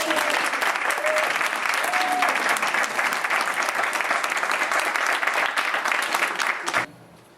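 Audience applause welcoming a well-known speaker to a lecture with a standing-room-only crowd: loud, dense, sustained clapping that fades out near the end.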